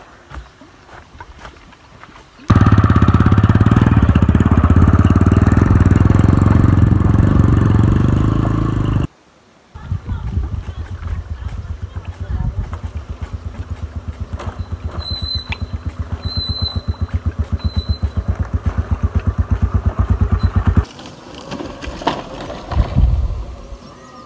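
A motorcycle is ridden back down through a village after cleaning, its engine a steady low rumble that holds for several seconds after a louder, rougher stretch near the start.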